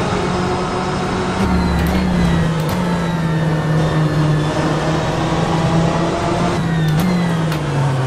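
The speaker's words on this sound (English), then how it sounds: "Gonna turn up the engine, get some extra power" BMW M8 GTE race car in rFactor 2 at Istanbul Park, its engine droning steadily and loud throughout with pitch sweeping up through gears, brief dips at upshifts around the second and seventh seconds, no talking.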